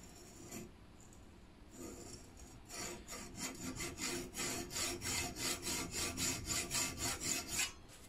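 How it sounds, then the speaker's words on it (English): Hacksaw scoring shallow marking lines into a metal bar for a BBQ handle, a few tentative strokes followed by steady rhythmic back-and-forth rasping, close and moderately loud. "Now when marking out lines with a hacksaw, you don't need to go too deep"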